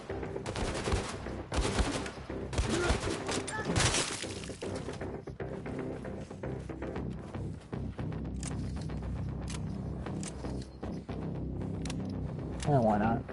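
Suppressed gunfire from a video game on PS4, heard as rapid muffled pops and crackling bursts with shattering impacts, dense and continuous throughout at a close, steady loudness.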